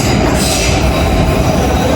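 Loud, steady rumble of a Munich metro train in motion, with rattling carriage noise and a faint high wheel squeal running throughout.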